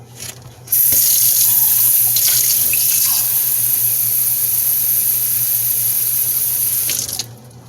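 Cold water runs from a kitchen tap in a steady, loud hiss for about six seconds, starting and stopping abruptly.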